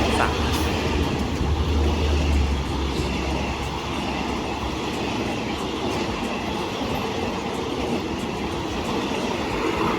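A Thai express passenger train hauled by a QSY locomotive rumbles past on the rails with a continuous loud roar and faint rhythmic clicking of wheels, steady throughout.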